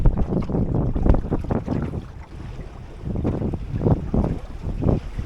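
Wind gusts buffet a sailboat on a beam reach, loud rushing bursts over the microphone that swell and ease, with water washing beneath and no talking.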